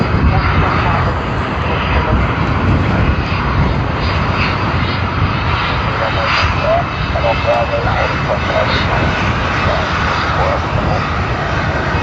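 A Qantas Boeing 787 jet arriving at Sydney Airport, a steady broadband engine roar that stays loud throughout, with faint radio-style talk underneath.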